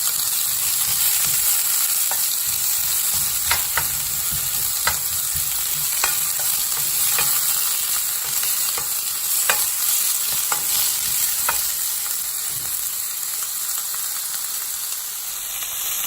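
Breakfast with capsicum frying on low heat in an Aldi non-stick fry pan, a steady soft sizzle and hiss punctuated by occasional sharp pops and utensil stirring scrapes, close up with no talking.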